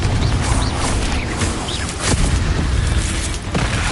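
A Confringo fire spell in Hogwarts Legacy bursts in a dense, continuous blast of booming, crackling explosions with scattered sharp pops and debris over several seconds, loud and close.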